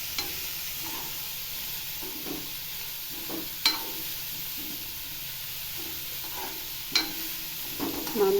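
Papaya thoran is stirred in an oiled pan over a soft, steady sizzle, with occasional spoon scrapes and a few sharper knocks against the pan, heard close and quietly with no talking.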